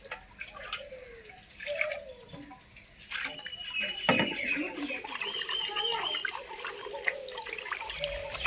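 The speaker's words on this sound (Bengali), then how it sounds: "এখন ভালোভাবে ধুয়ে নেব।" Cut vegetable stems are washed in water, with splashing, trickling and dripping close by as the stems are swished and handled, and running water beneath.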